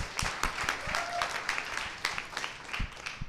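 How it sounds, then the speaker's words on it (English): Scattered applause at a TEDxYouth event, with a small crowd clapping unevenly, moderately close and fairly quiet, individual claps standing out across the short burst. "So round of applause for that."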